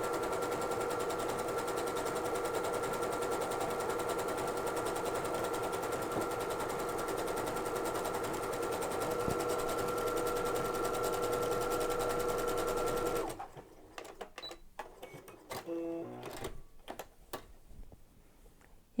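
A sewing machine runs a steady, continuous overcast stitch along the edge of thick pre-quilted fabric for about thirteen seconds, then stops, leaving faint handling clicks.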